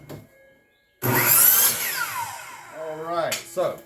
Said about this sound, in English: I'm going to cut all 3 of these at the same time